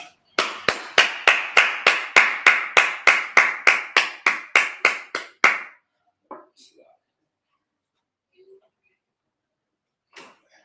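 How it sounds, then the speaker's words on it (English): About sixteen sharp claps in a steady, even beat. They stop abruptly and are followed by a few faint scattered sounds. "let's clap it up."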